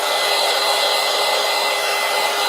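Heat gun blowing steadily while drying paint on a gel plate stencil, a loud, even whooshing hiss that runs unbroken from start to finish with no talking.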